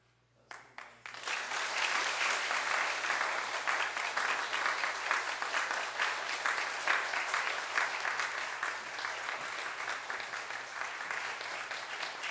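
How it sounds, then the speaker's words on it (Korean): An audience bursts into loud, sustained applause at a presentation with a bouquet of flowers, a dense roar of many hands clapping that begins abruptly and stays strong. "자, 제가 전달할 때 여러분 큰 박수로"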